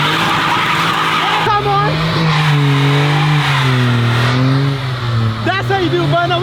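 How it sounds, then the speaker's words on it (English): A car doing a burnout, its engine revving hard while the tyres squeal loudly and continuously with wavering pitch, close by, with people talking over it. "Look, that's how you do a burnout"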